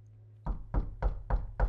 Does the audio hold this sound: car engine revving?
no